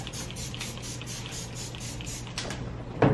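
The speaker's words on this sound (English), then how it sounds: "We're gonna spray on there." Clay bar lubricant misted from a trigger spray bottle onto the paint of a Saab 9-3 Arc during detailing, a run of short, close hissy spritzes followed by a slightly louder burst at the end, with no talking.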